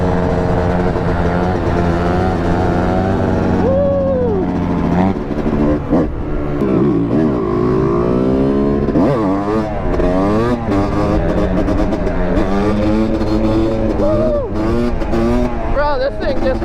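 Yamaha YZ250 two-stroke dirt bike revving hard and riding close by, its rising and falling engine whine continuous throughout, with people talking and shouting over it.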